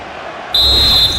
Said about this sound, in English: And there it is, the final whistle.